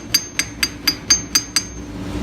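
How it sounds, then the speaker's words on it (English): Seven light, evenly spaced metallic taps as a hammer gently drives a sprocket onto the outfeed roller shaft of a Grizzly 1033X planer, each strike ringing briefly, close and alone. "we're using the hammer just real gentle"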